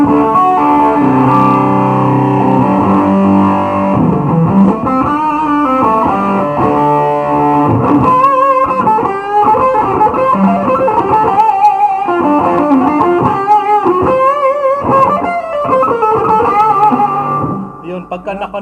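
Electric guitar played through a Dolamo D-11 vintage distortion pedal with the distortion turned fully up, a loud, continuous run of chords and single-note lines with thick, saturated tone and no talking.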